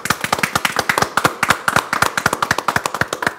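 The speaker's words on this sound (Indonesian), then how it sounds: "Tepuk tangan." A group claps in a brisk, irregular burst of sharp hand claps at a church Bible question-and-answer session, fairly close and steady, with no voices over it.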